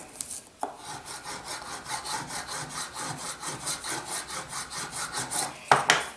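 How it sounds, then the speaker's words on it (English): A Pokemon card scratched hard under heavy pressure, a steady rhythmic rasping of repeated strokes, close and fairly loud, with a sharper scrape near the end. "That scratches it really deep."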